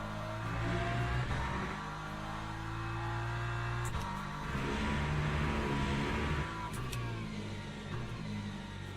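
Race car engine in the sim racing game Le Mans Ultimate, accelerating out of a corner: a loud, steady mid-pitched drone that builds and shifts pitch, with brief gear-change breaks, no talk over it.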